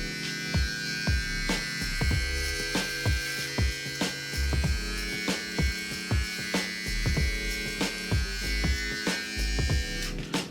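StyleCraft Ace cordless precision hair trimmer running with a 2 mm guard, a close steady electric buzz with a mains-like hum, broken by repeated short clicks and knocks as it is handled.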